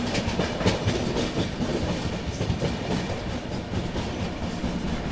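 The Maharashtra Sampark Kranti Express rolls along the rails near Tughlakabad, running slowed behind another train, with a steady close rumble and clickety-clack of the wheels throughout.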